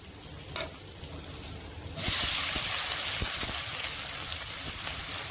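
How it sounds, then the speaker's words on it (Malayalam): Sliced onions drop into hot ghee left from frying cashews and raisins, and a loud, steady sizzle bursts up after a brief clatter, then crackles on with small pops. "ഇനി ഈ നെയ്യിൽ തന്നെ കുറച്ച് സവാള വറുത്ത് കോരാം."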